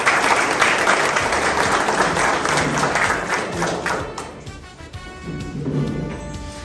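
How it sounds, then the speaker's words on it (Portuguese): A crowd at a municipal championship launch event gives a loud round of applause that fades after a few seconds, then rises again briefly. "E pedir uma salva de palmas para vocês todos aí"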